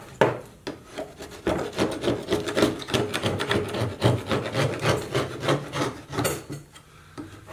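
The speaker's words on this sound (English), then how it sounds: "scrape this down with my hive tool" A metal hive tool scrapes old comb off a wooden beehive frame in quick rhythmic rasping strokes, close up and steady, with no talk over it.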